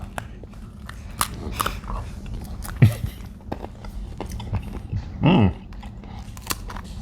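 Crunchy crackers from a Ukrainian MRE are bitten and chewed up close, giving scattered sharp crunches with a couple of louder bites among quieter chewing.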